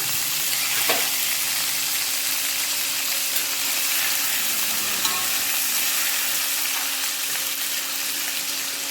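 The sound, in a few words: frying vegetable stalks and potatoes in a pan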